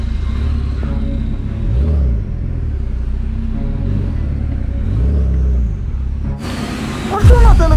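A Porsche engine rumbles and revs steadily at close range for most of the stretch, with people talking over it and a sharp burst of louder revving near the end.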